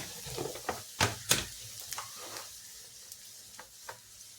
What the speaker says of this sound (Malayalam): നമുക്ക് ഇനിയിലോട്ട് ഇച്ചിരി മുളക് പൊടി ഇട്ട് കൊടുക്കാം